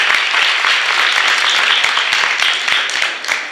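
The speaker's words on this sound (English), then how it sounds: "let's give these people a huge round of applause" Dense audience applause at the Talent Boost Summit 2017, a steady wash of many hands clapping close and loud throughout, easing slightly near the end.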